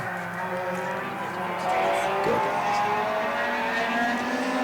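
Pure stock race cars battle side by side into a turn on a short oval track, engines droning steadily and loudly throughout, with a race announcer talking over the engine noise.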